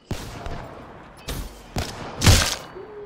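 Several separate gunshot bursts ring out in the Ground War mode of a video game, three or four sharp cracks spaced about half a second apart, moderately loud with no talk over them.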